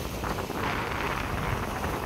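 Strong sea wind gusts across the mic on the Manama waterfront in Bahrain, near the airport, with big waves rolling in; a steady, loud broadband rush fills the whole stretch without pause.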